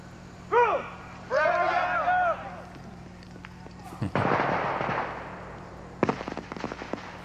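Practice grenades at army basic training go off in a quick string of sharp, crackling pops like firecrackers, heard somewhat far off, with voices talking in between.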